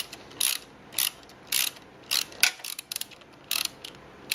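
A ratchet tightens short non-lock-washer bolts on the output flange of a BMW Airhead motorcycle, giving repeated bursts of rapid clicking in an uneven rhythm with brief pauses, close by and clear, with no talking.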